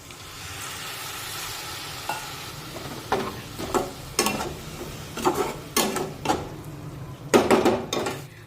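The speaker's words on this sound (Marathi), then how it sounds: "आता टोमॅटो सुद्धा या मसाल्यांमध्ये परतून घेतल्यानंतर या मसाल्यांमध्ये अगदी थोडस पाणी टाकूया" Tomato and spice masala sizzles steadily in a kadhai for a dry brinjal sabzi, with a continuous close hiss broken by several sharp spoon scrapes and stirring clatters against the pan.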